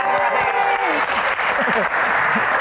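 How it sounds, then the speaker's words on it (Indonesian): Steady applause from a stand-up comedy audience rolls on continuously, dense and fairly loud, while voices, including a speaker, talk briefly over the clapping. "tepuk tangan lagi dong"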